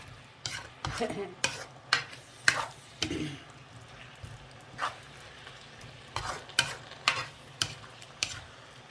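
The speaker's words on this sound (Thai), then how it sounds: "เอาหน่อไม้เขี่ยวหน่อไม้ก่อน" Bamboo shoots being stir-fried in a pan, with repeated scraping strokes of a spatula over a faint steady sizzle, sparse and irregular, close up.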